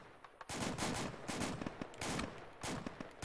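Bursts of gunfire in the tank game, several loud volleys in quick succession with short gaps between them, close and sharp, and no talking.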